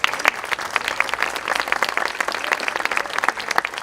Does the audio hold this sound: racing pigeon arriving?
no